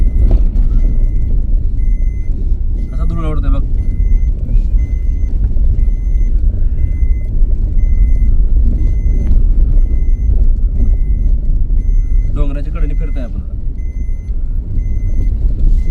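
A tiger-capturing vehicle maneuvers in the hills near Yedshi, its reversing alarm sounding in two short beeping bursts over a loud, steady engine rumble with mechanical clatter, and no one talking.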